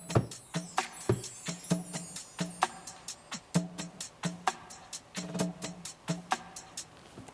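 An R&B percussion loop with its shakers cut out plays alone, a steady, tight pattern of crisp drum and clap hits repeating for several seconds.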